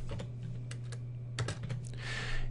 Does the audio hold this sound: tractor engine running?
no